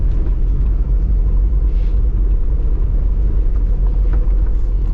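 A car drives along a road near Alligator Pond and Port Kaiser in Jamaica, a steady low engine and road rumble holding at an even loudness throughout with no talk.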